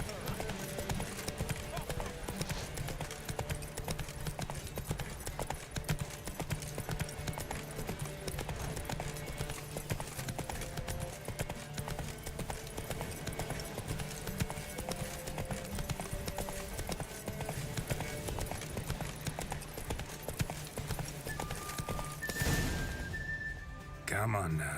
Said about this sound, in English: Come on, Roach. I can only canter. It won't let me sprint